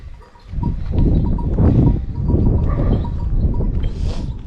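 Sheep and goats bleating close by, several overlapping calls in a steady stream, with a faint bell-like clink near the end.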